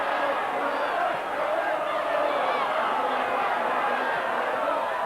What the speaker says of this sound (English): the crowd now singing "Going Up Again."